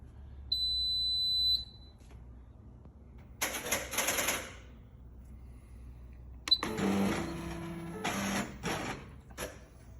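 A home embroidery sewing machine powering up, giving a clear electronic beep followed by bursts of mechanical whirring and clicking as it initializes, fairly close and alone without talk.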